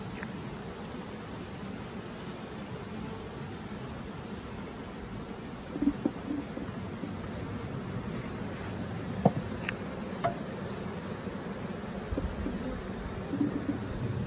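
A honey bee swarm being transferred into a Layens gable roof forestry hive buzzes as a dense, continuous hum close by, with a few faint knocks and rustles.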